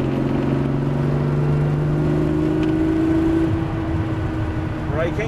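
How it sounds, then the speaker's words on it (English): A Lamborghini engine pulling hard after a shift into fourth gear on a driving course, a loud close engine drone with a rising tone that then levels off, continuous under an instructor's speaking voice. "Nice smooth gear change, really put it into fourth,"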